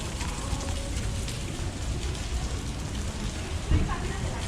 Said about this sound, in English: not every day I get to turn on my camera and walk in the rain